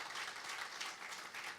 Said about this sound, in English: Can we have a very warm round of applause